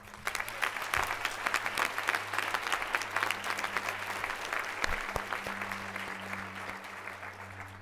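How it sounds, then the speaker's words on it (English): An audience at the 2016 Simon's Rock commencement applauds steadily for faculty and staff, a continuous patter of many hands at moderate distance over a low hum. "Please join me in thanking them with a round of applause."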